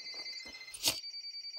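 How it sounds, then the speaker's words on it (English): Telephone bells ring in a video game mission, a thin repeating electronic trill that pulses steadily, with a brief louder burst partway through, moderately loud and alone. "Can you hear the phones ringing?"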